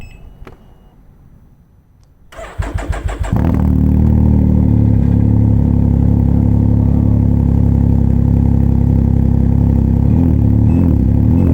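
A Can-Am Ryker fitted with a race exhaust starts for the first time, cranking briefly and then catching into a loud, steady, rumbling idle that fills the space, with no voices.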